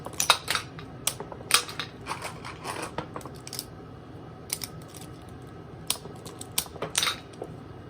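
B-Daman Magnum Rising Dracyan toy firing marbles without emblem charge, a series of sharp plastic clicks and clacks in irregular bursts, close and fairly quiet.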